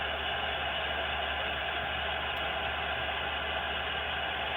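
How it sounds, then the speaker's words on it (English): Steady broadband radio static hisses without a break from an FM receiver tuned to the International Space Station's FM repeater, constant and fairly loud with no voices coming through. "Right now, it's just all static."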